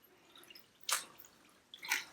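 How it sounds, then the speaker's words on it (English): A 100% wool cowl is dipped into a basin of warm soapy water, producing two soft splashing sloshes about a second apart, quiet and close against a near-silent background. "I'm going to take my cowl and I'm just going to dip it in."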